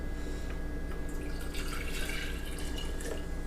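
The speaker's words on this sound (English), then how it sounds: "I'm just going to put some hot water in there to make sure I get it all out" Hot water streams and drips steadily into a measuring cup holding lotion, a soft continuous trickling with light splashes over a low background hum.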